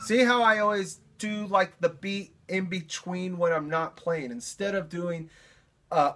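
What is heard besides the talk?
No distinct noise like a dog, phone or traffic.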